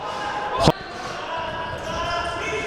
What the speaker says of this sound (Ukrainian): Ось зараз ще один удар.